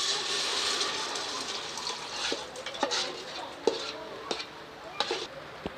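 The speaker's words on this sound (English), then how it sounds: "After 2 to 3 minutes, put the rehydrated mushroom into the stock pot." Rehydrated mushrooms dropped and stirred into a simmering vegetable stock pot, soft sizzling and bubbling under a few light scrapes and knocks of a utensil against the pot.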